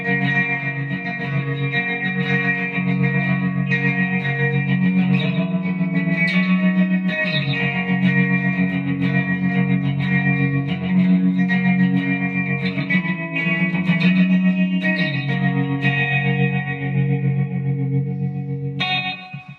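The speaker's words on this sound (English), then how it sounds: "it's not an overdriven sound, it's like a pushed clean sound" Electric guitar chords strum continuously with a warm, slightly gritty clean tone, full and sustained, washed in reverb and chorus, with no voices.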